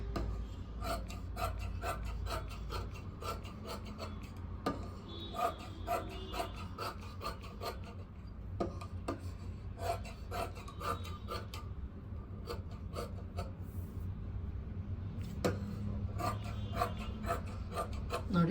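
Cloth being cut crosswise with scissors to make thread piping: a long run of close, crisp snipping and rasping cuts at a brisk, uneven rhythm, with no talking.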